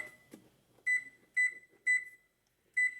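An oven gives four short electronic beeps at a steady pace as it is set to preheat, close and clear, after some faint handling noise.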